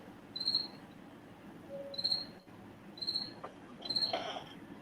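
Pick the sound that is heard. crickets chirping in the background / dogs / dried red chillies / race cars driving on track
crickets chirping in the background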